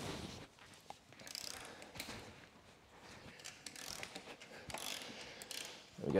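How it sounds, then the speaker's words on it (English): A ratchet cranks a wheel nut loose on a Ducati Desert X motorcycle outdoors, giving faint, scattered clicking and metallic ratcheting bursts over a quiet background, with no talk. "let's just crack this wheel nut before I put it on the stands"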